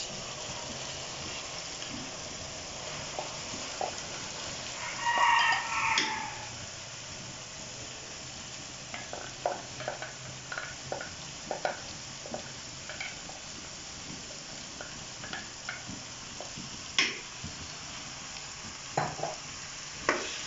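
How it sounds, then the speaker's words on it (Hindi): Urad dal (daal mash) roasting in fried masala for makhni daal mash, giving a faint, steady sizzle with soft intermittent stirring scrapes and one louder burst of frying a few seconds in; no talking. "दाल माश को डाल के अपने इसे अच्छी तरह से भून लूँगी"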